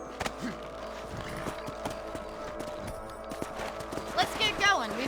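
Horse hooves clopping at a gallop in the Red Dead Redemption game, with an occasional whinny, running under steady game music and voices.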